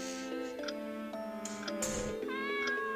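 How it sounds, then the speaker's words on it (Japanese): A cat meows several times in the horror video game Chloe's Requiem, clear harmonic cries spread across the clip over a steady game background tone, with no talking. "猫！"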